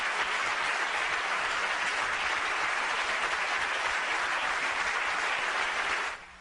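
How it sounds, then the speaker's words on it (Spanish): A standing ovation fills the Catalan Parliament after a vote, dense continuous applause from a large crowd that holds steady and then stops abruptly. "Y ovación de pie."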